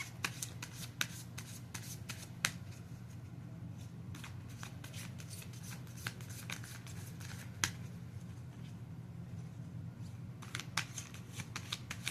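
A deck of cards is shuffled up close in a quiet room, with soft, steady riffling and sharp snaps of cards throughout, alone without talk.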